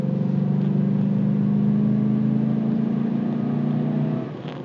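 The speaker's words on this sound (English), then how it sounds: "I did almost floor the throttle. It definitely has a different sound to it." A Silverado truck's V8 with a cold air intake drones steadily and loudly at low pitch, held near full throttle for about four seconds before it drops off.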